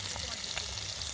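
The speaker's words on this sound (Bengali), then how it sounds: "এই যে আমাদের মাছ ভাজা হইতেছে" Katla fish fry in oil at a family picnic, producing a steady soft sizzle with faint crackles, heard briefly and fairly quietly.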